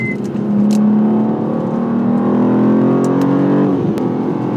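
A 2026 BMW M2 CS drives hard and steps out into a slide, its engine droning close and loud with a steadily rising pitch before easing off near the end.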